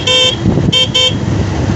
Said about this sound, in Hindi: और मोड़ पे तो हॉर्न ज़रूर दीजिए।